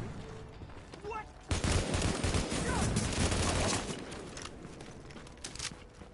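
Shotgun gunfire in the video game Tom Clancy's The Division, a burst of loud overlapping shots followed by scattered echoing blasts amid game noise.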